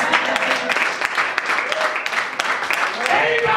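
A church congregation claps with rhythmic, steady applause during a worship service, while a voice speaks over the clapping throughout.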